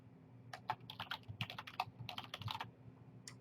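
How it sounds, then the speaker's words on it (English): Quiet typing on a computer keyboard while entering an email signature, a quick irregular run of key clicks lasting about two seconds over a low steady hum, with no talking. "I could just type something in here"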